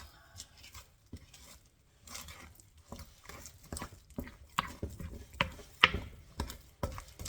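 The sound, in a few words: mixing bread dough in a bowl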